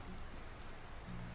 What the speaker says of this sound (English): And this rain is crazy.